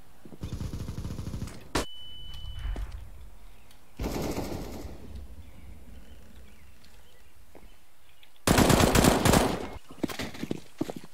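CS:GO gunfire comes in loud automatic bursts of rapid shots separated by quieter gaps, with one sharp single crack and a final heavy burst of fire.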